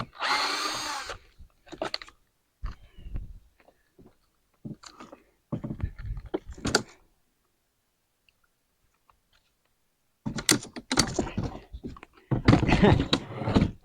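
Cordless power drill backing screws out of aluminum truck topper trim, loud close bursts of whirring in several short runs separated by quiet pauses and handling noise.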